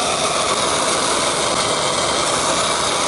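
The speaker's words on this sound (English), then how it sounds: "I'm going to go ahead and get my torch and I'm going to heat this bolt up right here." A torch heats a frame bolt on a Ford Sport Trac during body mount bushing replacement, giving a loud, steady, close-up roar that holds unbroken the whole time.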